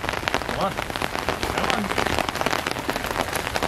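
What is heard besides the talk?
mild rain falling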